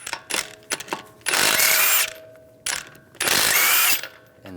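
A ratchet with a 19mm socket loosening lug nuts on the front wheel of a 2013-2016 Dodge Dart 2.4L: a few quick clicking strokes, then two longer, loud, rapid ratcheting runs close by, with no talking.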